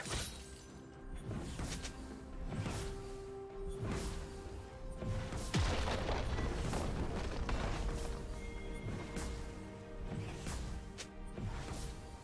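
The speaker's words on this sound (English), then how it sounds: "Team's turret has been destroyed." A turret being destroyed in League of Legends, heard as a series of crashing, smashing impacts and booms amid busy game effects, moderately loud and repeated through the stretch with no talk.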